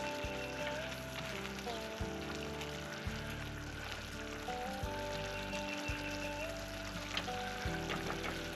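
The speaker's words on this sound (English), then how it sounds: "now we're just letting this thing just reduce down into a great sauce" Steak, onions and marinade with beef stock reduce on a Blackstone griddle, giving a steady, close frying sizzle with a low background hum and no talking.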